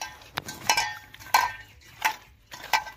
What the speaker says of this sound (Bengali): সামান্য লবণ দিয়ে আমি ধুয়ে নেব।